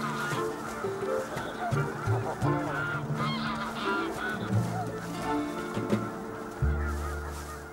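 A flock of geese honks on the Arctic tundra, with many overlapping calls near and far over a busy natural background.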